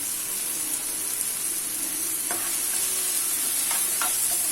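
Onions and tomatoes sauté with salt in a pan for egg kothu parotta, giving a steady close sizzle and hiss with a few sharp scraping stirs of a utensil partway through.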